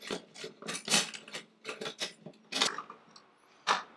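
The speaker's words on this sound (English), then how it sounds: "3 little retaining screws, we're going to start by removing those." Small retaining screws are worked loose from a 7-inch Max-inc headlight grill on a Harley-Davidson Street / Electra Glide Touring, giving intermittent close metallic scrapes and clicks in short bursts with brief pauses.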